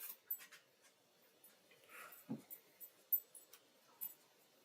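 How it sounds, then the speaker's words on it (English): A dog pants softly and lets out a small whimper indoors, faint irregular breaths and light ticking sounds scattered across a quiet room. "Doggos. Yes, the puppies."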